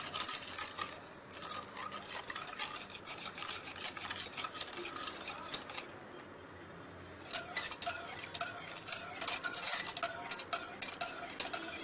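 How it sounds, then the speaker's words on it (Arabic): A dessert mixture of starch stirred in a pot on the stove, a continuous close scraping and rubbing with rhythmic spoon strokes and a brief pause midway, with no voices. "هفضل اقلب لحد ما قوامه يتقل"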